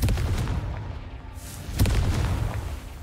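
In Hogwarts Legacy, the Confringo explosive spell lands as a close, loud boom, with a second sharp burst following about a second later over a rumbling background.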